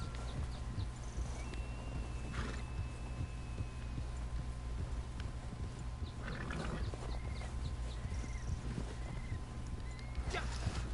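A horse walks a snowy mountain trail in Red Dead Redemption 2, its soft hoofbeats falling in a steady rhythm under constant outdoor ambience, with occasional faint chirps.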